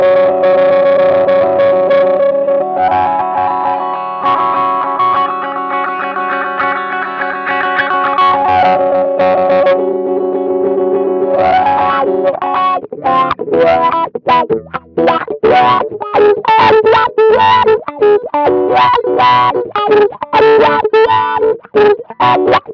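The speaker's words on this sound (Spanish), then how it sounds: "¿Escuchan ahí cómo satura cuando yo llego más o menos a la mitad y no exactamente a lo más agudo?" Electric guitar played through a Mission Engineering Rewah Pro wah pedal, first as sustained notes whose sweep saturates in the mids, then as a fast run of short, punchy distorted notes, loud and close with no talking.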